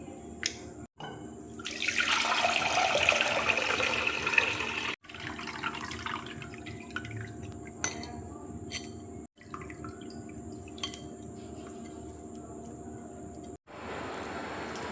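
Water drips and drains from washed wheat dough. A louder rushing pour comes early, followed by steady trickling and dripping close by, broken by a few abrupt cuts.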